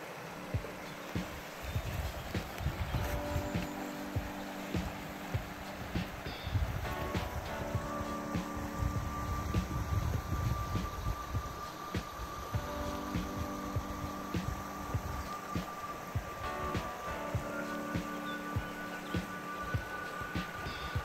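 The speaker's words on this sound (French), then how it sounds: "L'eau qui ruisselle." Water trickling along a stream beside a hiking trail on the GR70 Stevenson path in the Lozère hills, a steady soft rushing wash with rustling and faint birdsong, no voices.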